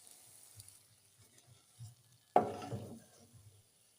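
Cardamom and bay leaves stirred in hot ghee: soft scattered clinks at first, then one sharp sizzling scrape as the spoon drags through the pan, fading over a second.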